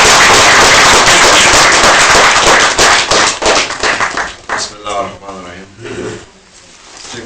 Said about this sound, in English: A round of applause for Mr. George Galloway.